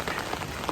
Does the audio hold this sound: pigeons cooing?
no